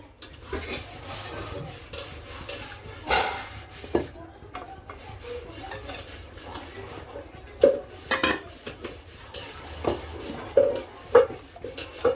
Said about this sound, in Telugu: ఇలా బాగా కలుపుకోవాలి ఉండలు పట్టకుండా